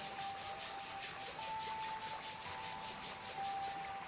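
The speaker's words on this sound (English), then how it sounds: "bring the palms of the hands together. Rubbing the hands together." Palms of the hands rubbed together briskly during a yoga session, a steady, close, dry friction sound with a regular back-and-forth pulse and no speech.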